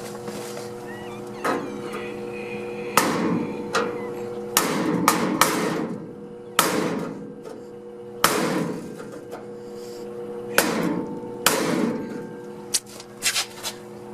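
Hard hammer strikes on a swamp cooler part, sharp metallic bangs landing irregularly, some in quick clusters, over a steady low hum and background noise, close and loud.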